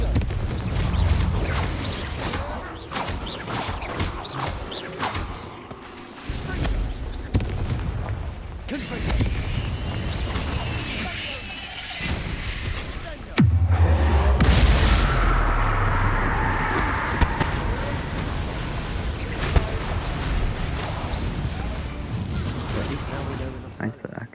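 Confringo blasting-spell explosions in Hogwarts Legacy, a string of sharp bursts and heavy booms with one especially deep, loud blast midway, over a dense game soundscape with speech throughout.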